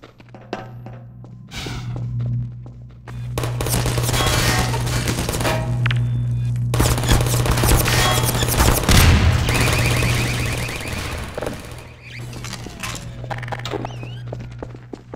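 Turret gunfire in Half-Life 2: Episode 2, dense sustained bursts of rattling shots over a low steady hum, loud and close, with brief pauses between volleys.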